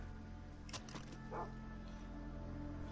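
A dog in the video game Far Cry 3 gives a couple of short barks at moderate distance over steady low game ambience.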